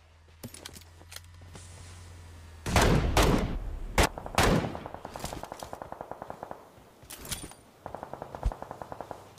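M762 assault rifle fire in a PUBG esports match, with sharp single shots and heavy close bursts followed by fast rhythmic automatic strings, some nearer and some farther off, loud against a quiet game background.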